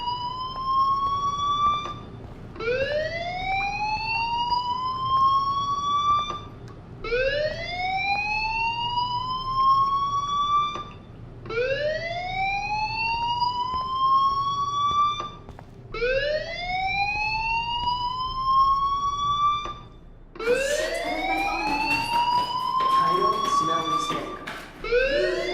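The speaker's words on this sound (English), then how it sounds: "Hey, do you hear that fire alarm? That means you should be outside." A school fire alarm blares in Life Is Strange, sounding as a loud electronic whoop that sweeps upward in pitch and repeats every few seconds, about six times in a steady rhythm.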